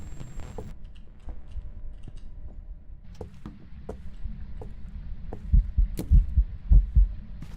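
A ghost-event heartbeat in the Phasmophobia video game thumps in a steady, slow double-beat rhythm, growing louder and heavier toward the end, with scattered soft clicks over a low hum.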